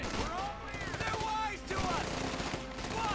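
Gunfire from riflemen and rear-echelon troops in a Company of Heroes 2 real-time strategy match, with dense bursts of small-arms shots and battle noise layered under a commentator's voice.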